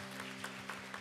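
A church congregation at a worship center's grand opening claps in praise, giving a soft, fairly faint patter of hands over a low steady hum, with a few sharper claps standing out.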